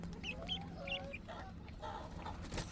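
Frizzle and silkie chicks, among them a partridge silkie, cluck and peep softly in a coop. Several short, high chirps and low clucks repeat over a faint steady hum.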